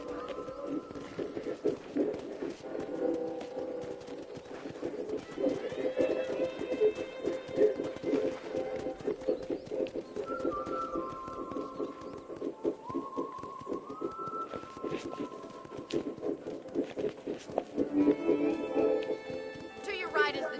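A horse clip-clops at a walking pace on a ranch while being ridden. The hoofbeats are steady and mid-distance, with birds chirping and voices talking alongside.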